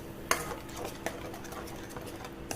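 Tamarind water is stirred into a Madras-style fish gravy, giving soft sloshing and light scraping with a few sharp utensil clinks against the pot, fairly quiet and close.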